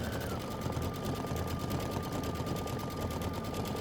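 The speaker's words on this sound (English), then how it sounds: "And this is 6 minutes of stitching." Sewing machine stitching a quilt block in orange thread, a steady rapid mechanical whir and needle chatter running continuously at moderate level.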